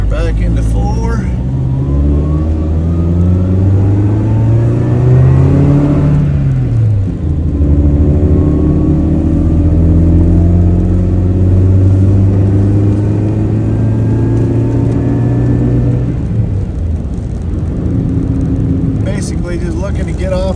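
A car with a newly fitted clutch shifts into fourth gear, and the engine drone climbs steadily through two long acceleration pulls, loud and close from inside the cabin.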